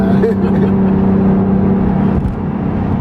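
Blue 2017 Acura NSX supercar accelerating hard, a loud close engine and road roar with wind buffeting, steady and dense for a few seconds before easing slightly.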